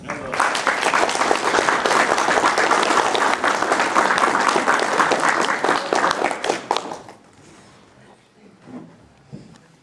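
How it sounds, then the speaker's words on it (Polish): A hall audience gives a guest, Piotr Nagiel, a warm welcome onto the stage: dense, loud applause sustained for about seven seconds, then breaking off abruptly into near-silence with a few faint stray sounds. "Gorące brawa."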